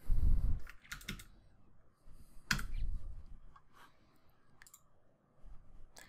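Computer mouse clicks and keyboard taps at a desk, a handful of sharp, separate clicks spaced irregularly, close and clear over a quiet room.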